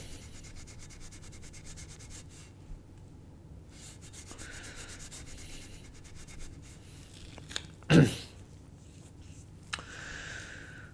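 A thumb rubs and scrubs steadily along the grip of a Li-Ning Aeronaut badminton racket handle, making a soft close scraping sound with one louder knock near the end.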